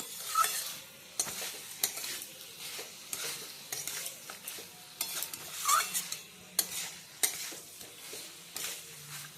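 Crumbled rohu fish head being stirred in a frying pan for murighonto, with repeated scraping spatula strokes in an uneven rhythm over a soft steady sizzle, close and fairly quiet.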